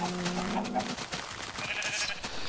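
A short electronic Minecraft sheep bleat with a harmonic wavering tone opens the clip, followed by busy game-like ambient sounds and some faint noise.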